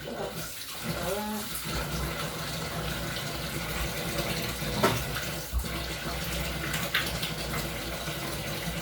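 Water runs steadily from a tap in a loud, continuous gush that fills the whole stretch, with a few faint knocks and a brief voice early on.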